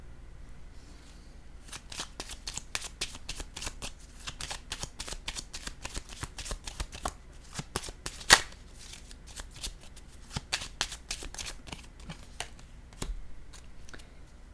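Cards are set down and slid on a table in quick succession, crisp close flicks and taps in an irregular rhythm over a quiet background, with one sharper snap midway.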